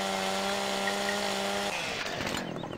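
A chainsaw roars in the Farming Simulator 17 video game, a loud steady whine that then bites into wood with a rougher, grinding sound, and no voices over it.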